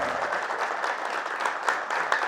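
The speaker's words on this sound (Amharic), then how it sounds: "እባካችሁ አጨብጭቡላቸው" An audience applauding, a steady wash of many hands clapping together at moderate loudness for a couple of seconds.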